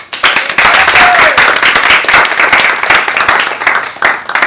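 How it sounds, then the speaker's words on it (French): Loud, close applause from an audience clapping for themselves after their performances, dense and sustained throughout with a few stray voices. "bravo et veuillez applaudir déjà pour vous-même"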